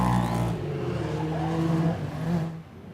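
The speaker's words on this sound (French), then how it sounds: "les side-by-side en action sur le circuit" Side-by-side off-road vehicles racing on a circuit during a qualifying session, engines droning loudly and steadily with rising and falling pitch as several machines run close together, fading slightly toward the end.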